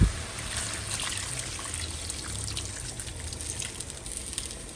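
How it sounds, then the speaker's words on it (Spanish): A cup of chicken broth pours into a cooking pot in a steady trickle. The liquid runs continuously, at a close distance, for a few seconds. "Aquí le voy a agregar una taza de caldo de pollo o de agua."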